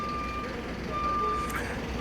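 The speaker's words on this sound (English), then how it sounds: "You can hear the bus station." Reversing beeps from a vehicle at a bus station outside the old city walls in Jerusalem sound as steady repeated high tones over constant traffic rumble, fairly distant.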